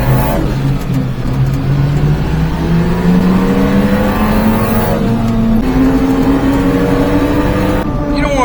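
A mini truck's engine droning loudly and steadily as it drives, its pitch climbing gradually through a gear, with a brief dip around a shift, all from inside the cab.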